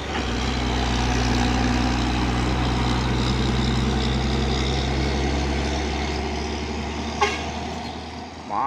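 An orange 6x2 push truck's heavy engine drones steadily and loudly as it climbs, with a brief horn toot near the end.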